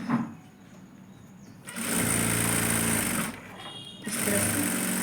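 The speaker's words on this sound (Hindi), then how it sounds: "इसको इस तरह से अब सिलाई करना है" A sewing machine stitching a coat collar on a kurti, running in two steady whirring bursts with a fast mechanical needle rhythm, close and loud, separated by short pauses.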